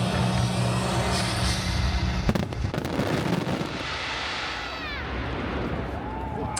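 Fireworks finale at Alton Towers theme park, a dense continuous barrage of booms and crackles with a sharp burst partway through, loud and sustained throughout, with faint whistling rockets rising near the end.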